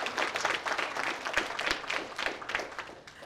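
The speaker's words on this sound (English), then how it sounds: "Let's please give them all a round of applause for everything they have accomplished." Audience applause honors graduating students at a graduation ceremony, an irregular patter of many hands clapping at moderate distance, steady throughout with no talk over it.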